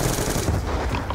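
A short burst of rapid gunfire, loud and dense, like an automatic weapon firing in Call of Duty: Black Ops 2 Zombies.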